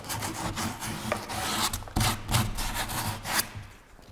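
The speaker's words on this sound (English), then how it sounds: "I like to take my sandpaper and just go around that hole" Hand sanding with sandpaper around a freshly bored lockset hole in an interior wooden door, a rough rasping rub repeated in uneven strokes, close and fairly loud, with no voices.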